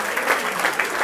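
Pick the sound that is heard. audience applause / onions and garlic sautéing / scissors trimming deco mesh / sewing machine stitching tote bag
audience applause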